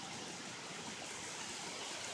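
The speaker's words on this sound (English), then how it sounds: "Right now, it's just raining really hard. It's pouring." Heavy rain pours steadily during a severe thunderstorm, a continuous dense hiss with no pauses. It sounds fairly soft and even, with no voices.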